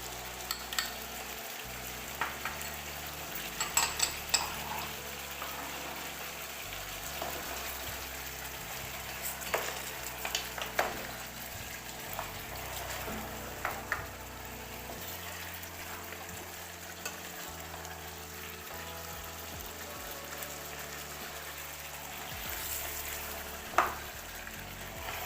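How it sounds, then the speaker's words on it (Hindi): Beef trotters frying with garlic ginger paste in a pot, a steady sizzle with scattered scraping and stirring clatters over about twenty-five seconds, no voices. "अब पायों को हम 5 से 7 मिनट तक अच्छी तरह भुनेंगे"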